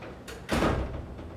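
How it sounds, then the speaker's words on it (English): A school classroom door swings shut on its own, landing as a single muffled thud in an otherwise quiet room. "My door keeps closing by itself."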